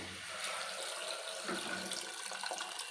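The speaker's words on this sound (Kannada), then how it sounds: "ಇವಾಗ ನಾನು ನೀರು ಹಾಕ್ತೀನಿ" Water is poured into a pan of mixed mutton for Uttara Karnataka-style chaakana, a soft, continuous splashing pour that stays fairly quiet, with no talking.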